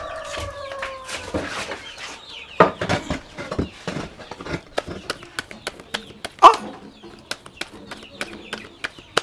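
Chickens cluck in a yard, with short choppy calls and sharp pecking-like clicks scattered throughout at moderate distance, along with a dog barking and some faint background voices.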